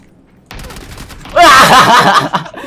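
Burst of rapid gunfire in the battle royale game PUBG, a short loud volley after a quieter lead-in, with voices faintly in the mix.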